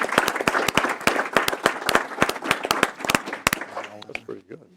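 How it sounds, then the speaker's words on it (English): A round of applause for special athletes at a school board meeting, brisk clapping from a modest group of hands in a room, fading out as voices begin talking. "Let's give these special athletes another round of applause"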